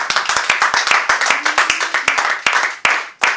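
A church congregation claps hands in praise to the Lord, loud, close, rapid and somewhat uneven rhythmic clapping that slows and thins toward the end.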